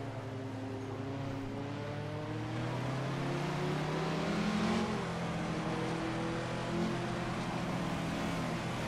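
Racing car engines in Assetto Corsa, including an Audi A1 chasing a Ford GT40, whine steadily at moderate volume, with pitch climbing and easing through gear changes and no talk over them.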